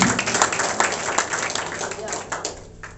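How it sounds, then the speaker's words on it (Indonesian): A church congregation at a Sunday worship service claps hands together, a brief burst of mixed clapping with voices and room noise around it, fading a little toward the end. "Tepuk tangan buat Bapak yang kawan ajar."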